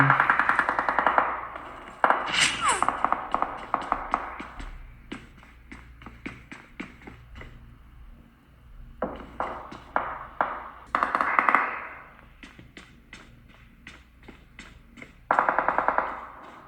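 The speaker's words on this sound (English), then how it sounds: "So someone is firing at me." Bursts of automatic gunfire from an enemy shooting in a mobile battle game on a tablet, rapid rattling volleys interspersed with single sharp shots and pauses, moderately loud with no speech.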